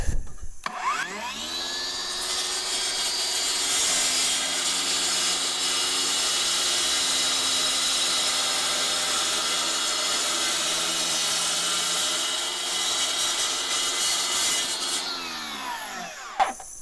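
A DeWalt 60V cordless concrete saw, model DCS690, cuts steadily through a slab of 2-inch-thick sandstone, a loud continuous grinding whine that spins up, holds for about fifteen seconds, and winds down, with no talking.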